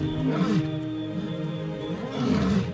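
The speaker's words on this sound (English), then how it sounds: "it's the roar of lions that echoes out across the plains" Low, rumbling lion roars sound twice over a steady background on open plains, deep and resonant, with no voices present.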